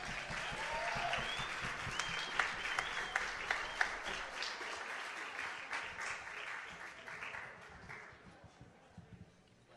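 Audience applause for a singer at a Gershwin night at the Cicada Club, steady clapping from a crowd filling most of the clip and fading out toward the end.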